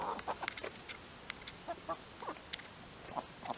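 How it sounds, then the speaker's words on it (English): Pet chickens cluck in short, soft bursts close by, a quiet scattered series of clucks with no talking. "They are very cute chickens."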